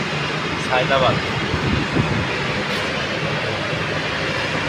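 Train standing at Saidabad railway station for a trial run, a steady low rumble and hum with brief squeaks over constant background noise, with people talking nearby.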